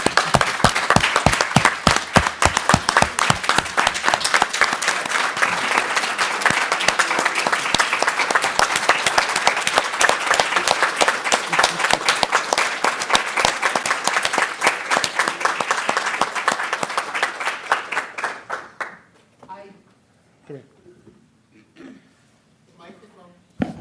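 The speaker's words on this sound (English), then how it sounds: "So a very warm applause for Diana." Loud, sustained audience applause for Diana at the closing of a Canadian acromegaly conference, dense clapping that holds steady for many seconds before fading out abruptly into near silence.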